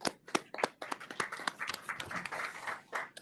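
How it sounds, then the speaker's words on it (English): Applause at a race, equity and inclusion working group meeting: a small group claps with sparse, uneven hand claps at first that thicken into a brief patter, fairly close and not very loud. "Let's give them a round of applause, if you will."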